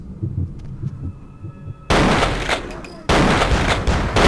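Shotgun blasts in Vampire the Masquerade Bloodlines come as two loud, abrupt booms, each ringing out with a long noisy tail. A quieter stretch of game ambience comes before them.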